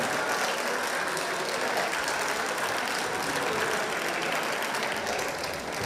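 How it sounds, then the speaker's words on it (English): Applause fills a VEX Robotics competition venue for the teams of two alliances after a semifinal, a steady wash of many hands clapping at moderate distance throughout. "a big round of applause for both alliances, all 4 teams doing a great job"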